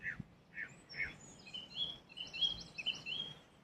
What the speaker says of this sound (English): they're a song thrush